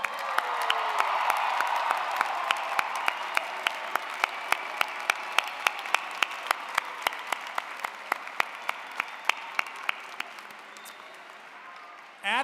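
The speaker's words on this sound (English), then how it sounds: "Let's give the new graduates one more round of applause." Sustained applause for new graduates at a university business school commencement ceremony, a dense steady wash of clapping from a large audience with scattered sharper claps, fading slightly toward the end.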